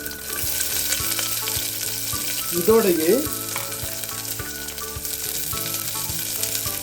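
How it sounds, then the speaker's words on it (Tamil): Finely chopped shallots frying in sesame oil with cumin and mustard seeds, a loud continuous sizzle with stirring clinks, while a voice speaks briefly over the cooking. "பொடியாக நறுக்கி வச்சிருக்கிற சின்ன வெங்காயம் சேர்த்துக்கலாம்."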